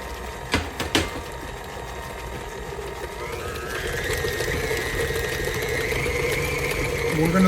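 An electric mixer beats homemade pound cake batter, starting after a couple of sharp clicks and settling into a steady, slightly rising whirring drone that grows louder and holds close, with no speech over it.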